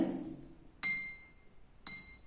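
Pressed glass teaware with small bubbles in the glass rings out in two distinct bright clinks, spaced about a second apart, each with a clear lingering ring in a quiet room.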